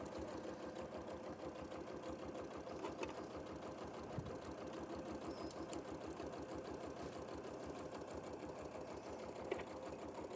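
A domestic sewing machine stitches steadily through several layers of quilt fabric, a continuous fast mechanical whirr with a rapid even rhythm held for the whole stretch, close and moderately loud with no talking.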